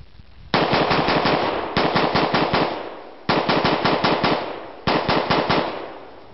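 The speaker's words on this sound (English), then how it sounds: "Nothing like a good squirrel gun." Four loud close bursts of rapid automatic gunfire from a so-called squirrel gun, each volley a quick string of sharp shots separated by short pauses.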